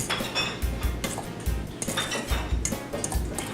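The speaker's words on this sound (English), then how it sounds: "Take your berries and give them a good stir." A spoon stirring berries and clinking against a dish, with repeated close clatters and scrapes in an uneven rhythm and no talking.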